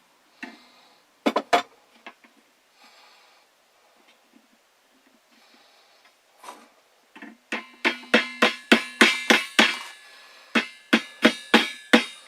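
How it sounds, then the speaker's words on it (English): A hammer drives staples into the hinge of a homemade mouse trap. A few scattered taps come first, then a close, rapid run of about a dozen sharp, evenly spaced blows. "what I'm going to do is hammer a couple of these staples in at the back"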